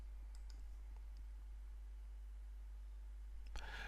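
A few small, light computer mouse clicks sound over a steady low hum. A slightly louder click comes near the end, close by and with no speech.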